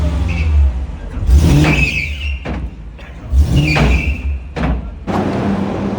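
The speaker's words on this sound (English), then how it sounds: "cars on the dyno now" A Mercedes E55 AMG engine on a dyno revs up in two rising pulls, each followed by a heavy thump. The engine note is loud and close, and a whine climbs with each rev.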